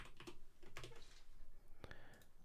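Keystrokes on a computer keyboard as a formula is typed into a spreadsheet: a close run of irregular taps and clicks, several in quick succession, fairly clear and alone.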